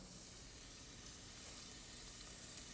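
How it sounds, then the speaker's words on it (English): Garlic sizzling in hot oil in a pan for soup, a faint, steady crackling hiss throughout with no talking. "Listen to that sizzle."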